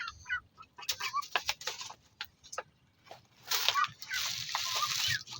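Chickens cluck on a rooftop in the afternoon while ducklings move among them. The calls are short and scattered, with a louder, denser stretch of fowl chatter near the end.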